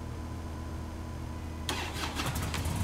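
A motorcycle engine in a game turns over and catches after a quiet stretch, then runs with a rough, close idle to the end.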